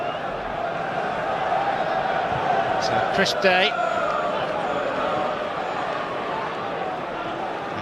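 Large, expectant football crowd at Highbury stadium before Arsenal v Newcastle United in the Premier League, a steady broad roar throughout with a brief louder burst midway, under a commentator's voice.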